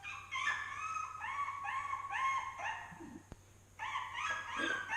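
Recorded puppy calls played from a loudspeaker wrapped in a black sock during an animal playback experiment, a series of rapid high-pitched whining yelps in two bursts with a short pause between, fairly clear over faint background hum.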